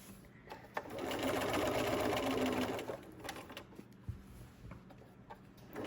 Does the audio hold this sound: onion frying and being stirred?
no